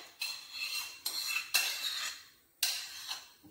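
Metal clinks and clatter from a pot of tomato passata being handled in a home kitchen, four sharp metallic hits with brief rattling tails, close and fairly quiet, no talking.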